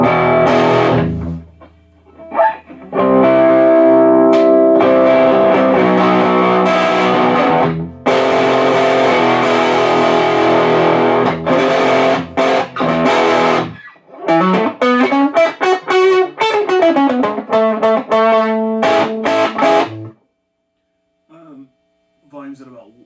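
An electric guitar plays through a Supro 1419 amplifier with volume and tone near noon, loud gritty chords and single-note runs in bursts separated by brief pauses, ending in a few sparse quiet notes.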